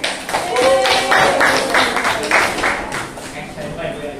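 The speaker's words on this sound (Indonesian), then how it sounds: "Tepuk tangan dulu" A classroom gives a brief round of applause for a presenting student group, a dense close burst of clapping mixed with murmuring voices that tapers off after a few seconds.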